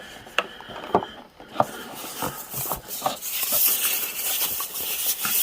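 An I Gel Beauty nail e-file handpiece being twisted to lock its bit in place gives a few sharp ratcheting clicks and rubbing scrapes, close and fairly faint, with no speech.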